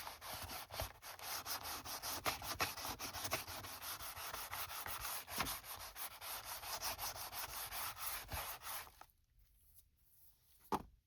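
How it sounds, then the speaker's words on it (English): A journal writing board being scuffed by hand, a steady, close abrasive rubbing like sanding that runs for about nine seconds and then stops, leaving near silence and one last scrape. "Let's scuff this."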